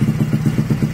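A car engine runs rich because of a faulty oxygen sensor. It idles loud and close with a lumpy, even pulse of about six beats per second.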